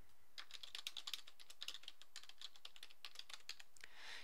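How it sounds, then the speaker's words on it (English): Typing on a computer keyboard, rapid irregular key clicks heard close and quiet in a still room, with no voices. "Click your cursor into the content editor and type your assignment."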